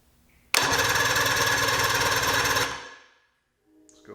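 A 1978 Evinrude 115 hp outboard engine cranks steadily for about two seconds with a loud, dense, rhythmic churning, then stops abruptly without catching, leaving near silence.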